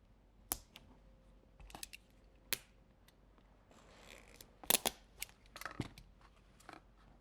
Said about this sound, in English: I'm going to just cut that right now so I have both at the same time